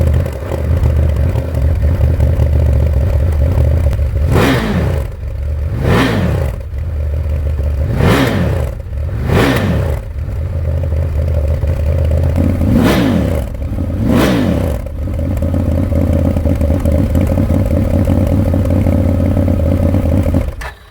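A Ford Maverick engine with its stock exhaust idles with a steady low drone, broken by about six sharp throttle blips that rev up and fall back, close and loud with no talk.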